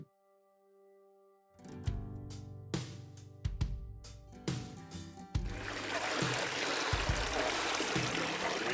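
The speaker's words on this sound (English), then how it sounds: "It's actually a fresh creek of water, freezing cold." Fresh, freezing-cold mountain creek water in British Columbia streams and splashes steadily, starting after a quiet lead-in with sharp splashy bursts, then settling into a loud, continuous close-up rush.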